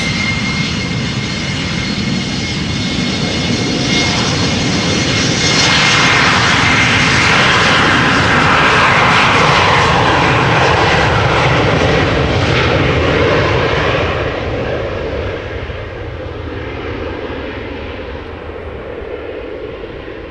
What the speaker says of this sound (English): this Embraer 190 outbound to Frankfurt